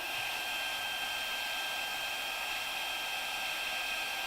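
Steady, close whirring blast of a heat gun shrinking flexible low-temperature heat shrink tubing, a constant even hiss with a faint high whine running unbroken throughout.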